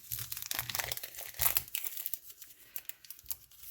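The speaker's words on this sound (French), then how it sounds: "avec une paire de ciseaux, ça s'ouvre quand même assez facilement après" Plastic packaging being cut open with a pair of scissors, close and fairly quiet, with irregular crinkling and snipping bursts over a few seconds.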